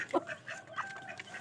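A hen clucks softly in a run of short, close calls, quiet and continuous, with no speech.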